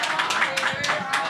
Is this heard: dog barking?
no